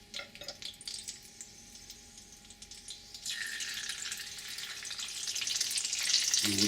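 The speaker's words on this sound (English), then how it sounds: "What I'm going to do is I'm going to lay these down in the oil" Beef taquitos are laid into hot oil, starting with a quiet crackle that swells into a louder, bubbling sizzle as they fry, close up and with no talking.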